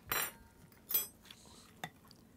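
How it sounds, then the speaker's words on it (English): Metal forks and spoons clink together in three bright, separate bursts close by, the first two louder and ringing, the last a short tap, over a quiet room. "So I brought forks and spoons."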